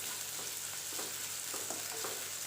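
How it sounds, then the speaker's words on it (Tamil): Onions softening in salted oil for a beetroot kurma, a steady, fairly quiet broadband sizzle with faint scraping stirs throughout, no voices. "வெங்காயம் கொஞ்சம் வதங்கட்டும்."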